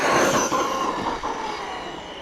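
Arrma 4S RC car electric motor running without a center differential, giving a loud, steady, continuous whine that holds throughout with no voices.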